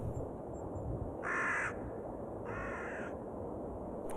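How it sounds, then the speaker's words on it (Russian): Two loud, harsh caws from a crow, each lasting about half a second and spaced roughly a second apart, over a steady background hiss with no voices. "Ворона кричит."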